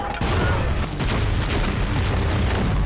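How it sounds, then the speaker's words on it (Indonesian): An organization's headquarters blowing up in an action film, a loud, sustained roaring blast with rumbling booms and debris throughout. "Markas organisasi Devil mulai meledak."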